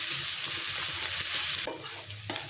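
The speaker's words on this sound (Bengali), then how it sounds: "এখন রসুন দিয়ে পেঁয়াজটা ভেজে নিতে হবে।" Chopped onion and grated garlic frying in an oiled pan for chicken pulao, a steady close sizzle with stirring scrapes and a sharper burst of spatter near the end.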